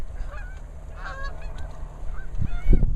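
Geese honk repeatedly at a distance during a goose hunt in a field, several overlapping calls over wind rumble, with a few closer thumping bumps near the end.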